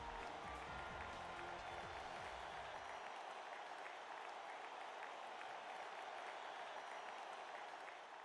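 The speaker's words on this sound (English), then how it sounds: "Despite the thunderous applause all around me" Sustained, dense applause fills the whole stretch in the game Radiant Tale, a steady roar of clapping around a stage with some low crowd murmur fading after the opening seconds.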